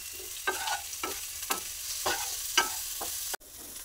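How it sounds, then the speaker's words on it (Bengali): Fried vegetables with salt and turmeric sizzle in a pan while a spoon scrapes through them in repeated, evenly spaced stirs, close and moderately loud over a constant hiss. "আর অল্প একটু হলুদ গুঁড়ো দিয়ে দেবো,"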